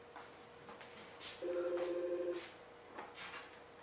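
A telephone being programmed gives a single steady dual-pitch electronic tone lasting about a second, faint and close, over quiet room noise with soft clicks.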